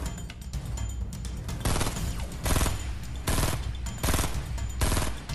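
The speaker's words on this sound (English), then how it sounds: "somebody shooting" Bursts of automatic gunfire in the battle royale video game Fortnite, several rapid strings of shots separated by short pauses, loud and fairly close, with faint background ambience between volleys.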